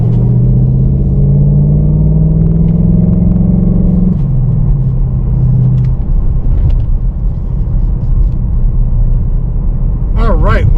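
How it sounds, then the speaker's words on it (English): A 2019 Ford Mustang Bullitt muscle car in dark Highland green cruises down the road at night, its engine droning steadily, falling in pitch as it shifts, with road rumble throughout and a voice near the end. "we are going down the road in this 2019 Ford Mustang Bullitt in the dark Highland green"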